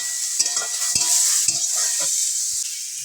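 Chopped onion goes into hot oil with a bay leaf and fennel seeds and is stirred in a pan. A bright sizzle carries repeated spatula scrapes and taps in an irregular rhythm, close and clear.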